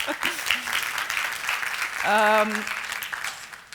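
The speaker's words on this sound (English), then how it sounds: "Yeah, go ahead. You can clap." An audience at a wealth seminar talk in Ottawa claps in a steady wash of applause, while voices talk over it and one voice calls out briefly.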